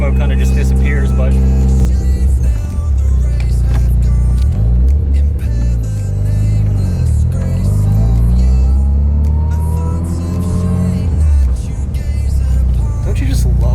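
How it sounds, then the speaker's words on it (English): A rotary-engine car, apparently a Mazda RX-7, idles and blips its throttle in a loud, choppy, continuous drone with rising and falling pitch sweeps close by, with no talk. "don't you just love the sound of rotaries?"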